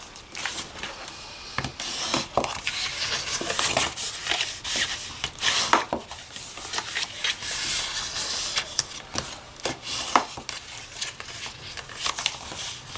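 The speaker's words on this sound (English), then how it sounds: "Okay, let's fold and burnish." Paper being folded and burnished by hand while wrapping a pink Lego box: soft scraping rubs and crinkly swipes come in short uneven strokes, close and fairly quiet, with no talk.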